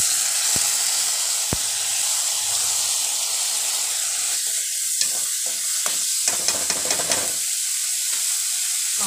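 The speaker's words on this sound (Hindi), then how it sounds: "प्याज हमारी पक गई है।" Onions frying in a pan for sarson ka saag, a constant loud sizzle and hiss with intermittent scraping stirring strokes from a spoon, close up and without talk.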